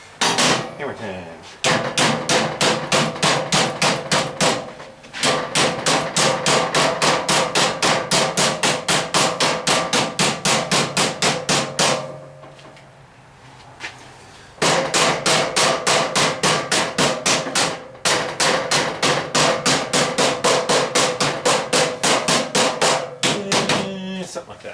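A mallet pounds 18 gauge sheet metal floor panels on a VW double cab in long, fast, steady bursts of ringing metallic blows, loud and close, broken by brief pauses.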